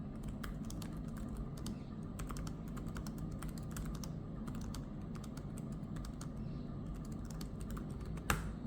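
Typing on a Lenovo ThinkPad X1 Carbon Gen 12 laptop keyboard: quiet, rapid, fairly soft key clicks in a steady run over a low background hiss, with one sharper tap near the end and no voices.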